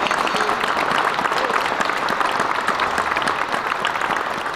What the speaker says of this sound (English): Can I get a round of applause for all of that?